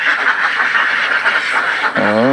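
Laying ducks quacking in a low-cost duck house on a farm, a steady loud chorus of overlapping quacks from many birds close by, with one nearer duck calling clearly near the end.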